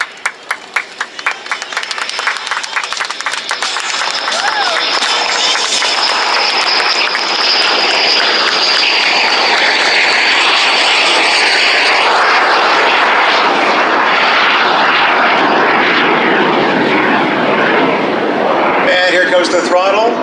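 A loud Lockheed T-33 (Canadair CT-133 Silver Star) jet trainer engine roars past in an air show flyby, rising to a sustained whooshing blast and then trailing off, with crowd noise and wind around it.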